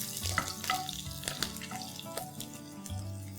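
Whole spices, cloves and cardamom, with chopped green chillies sizzle in a pan while a spoon stirs them, giving a crackling fry with scattered scraping clicks and no talk.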